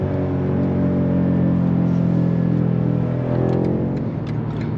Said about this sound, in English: I think it's time that we give it full throttle, shall we? Let's put the gear in the fastest mode and let's go.